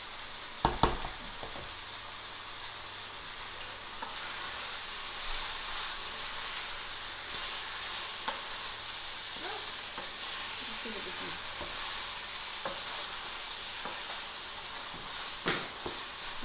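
Minced meat for a bolognese sizzles steadily in a pan, with scraping stirs and a few sharp clatters near the start, a constant moderate frying hiss throughout and no talking.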